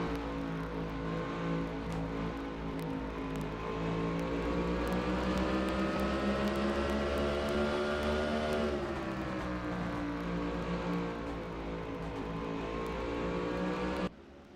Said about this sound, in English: Listen to the engine sounds there as we go into the cockpit